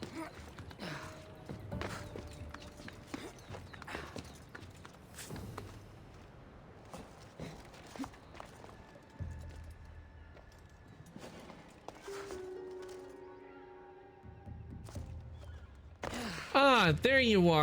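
Horse hooves clip-clop in a video game, a run of uneven thuds and steps mixed with other game sound effects, ending with a short whinny-like burst near the end.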